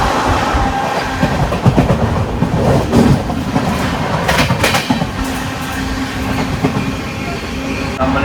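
Continuous rumble of a moving train heard from inside, with rhythmic rattling and clatter of wheels on the track.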